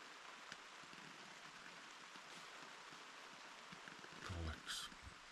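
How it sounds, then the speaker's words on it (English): Steady rain falls at a campsite in Scotland, a constant hiss of drops on surfaces with a few louder patters near the end, heard alone without talk. "Just on cue, the rain starts."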